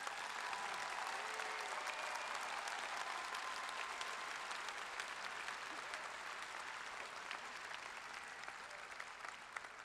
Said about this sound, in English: A round of applause for these new graduates,